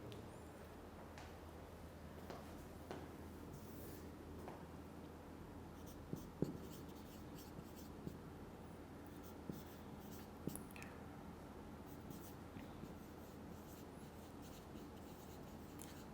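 Pen or stylus writing dimensions during an online math lecture, a long faint run of soft scratching strokes with scattered small taps, close and quiet with no talk over it.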